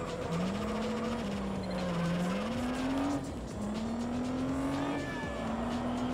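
Tyres squeal in a long continuous skid, the pitch sliding up and down as a Japanese supercar's engine drones steadily in the Juiced racing game, loud and unbroken with no talk.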